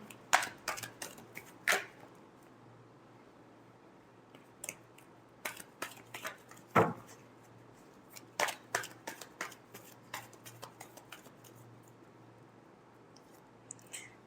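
Tarot cards being shuffled by hand, soft scattered flicks and riffling snaps in irregular bursts, close and quiet against a faint background hum.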